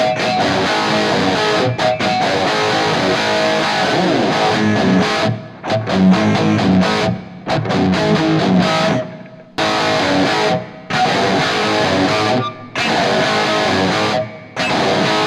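Distorted, heavily reverberant music playing through a JBL speaker, loud and continuous with abrupt brief dropouts toward the end.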